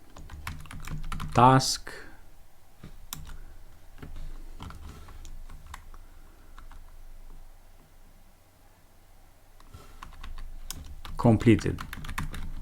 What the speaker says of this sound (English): Then I'm gonna type time dot sleep duration. Then I'm gonna type print